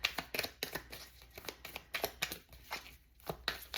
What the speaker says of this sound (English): Okay, this is my last shuffle.